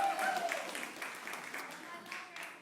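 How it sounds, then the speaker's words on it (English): An audience at a Story Night event in Bremerton, Washington claps for the presenters. It is a steady, crowded wash of hand claps that fades slightly over a few seconds. "How about a round of applause for Kristen and Bailey from the Cloverleaf?"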